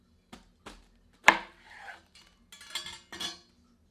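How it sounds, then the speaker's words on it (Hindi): A cabbage cut into pieces with a knife on a board, a few sharp chopping thuds with one heavy central cut followed by lighter slicing crunches, close and clear in a quiet kitchen. "अब इसको बीच से इस प्रकार 2 भागों में काट लेते हैं।"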